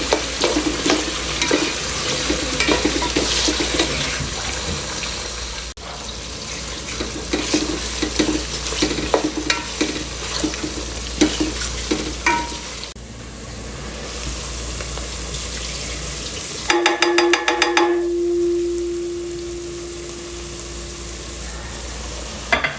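Basmati rice being washed by hand in water, with continuous swishing, sloshing and rubbing of grains for a long stretch, then a brief tap or pour of running water near the end.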